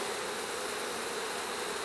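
Honeybees swarm around an opened hive during autumn preparation for winter, a dense steady buzzing drone filling the air continuously and close by, with no voices.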